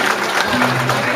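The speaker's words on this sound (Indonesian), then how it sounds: "Tepuk tangan" Loud, close audience clapping at a Balinese drama gong performance, a short burst with voices talking over it.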